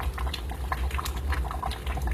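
A pot of bacon, beef and pork chilli boils vigorously, thick bubbling with frequent sharp pops and spatters, close and continuous with no talk.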